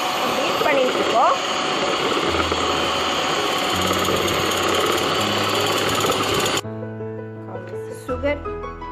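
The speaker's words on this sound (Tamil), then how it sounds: "பீட் பண்ணிட்டு இருக்கோம்." An electric mixer beats eggs for a vanilla cake, a steady mechanical whir that runs for several seconds, then cuts out abruptly and gives way to tonal sounds with a voice.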